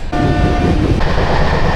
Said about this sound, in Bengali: টিকিট কেটে উঠে পড়লাম লোকাল মিমো ট্রেনে